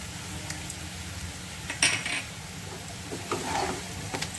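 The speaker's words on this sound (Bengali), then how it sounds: "একটু নাড়াচাড়া করে তারপর ধনে পাতাটা দিয়ে দেবো" Potato fry being stirred in a pan, a spatula scraping and clinking against the metal in light, irregular strokes over a soft background sizzle, with a sharper clatter near the middle.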